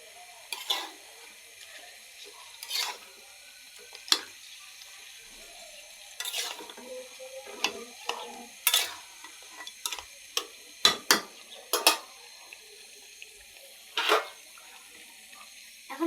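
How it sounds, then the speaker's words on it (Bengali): Country chicken meat being stirred in a pan, with scattered scraping and clinking strokes over a faint background sizzle, moderately close and without talk. "এখন আমরা মাংসগুলো দিয়ে দিব, এখন আমরা নেড়ে দিব।"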